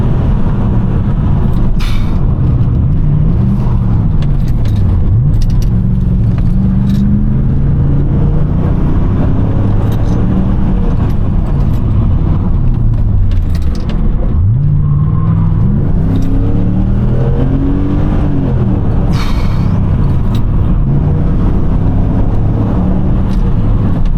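A cheap 300 hp V8 car with 400 Nm of torque is driven hard, its engine rising and falling through repeated loud revving pulls and throttle lifts for braking, close and continuous with no talk.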